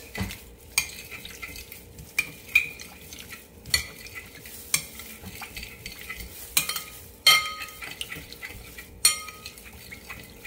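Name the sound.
stirring and mixing a seaweed salad dressing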